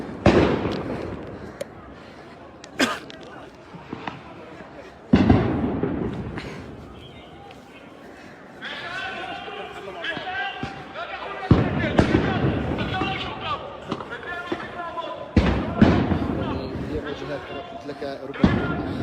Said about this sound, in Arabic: قوات الاحتلال اعتلت ساحات قبة الصخرة وتطلق الآن قنابل الصوت والغاز على الشبان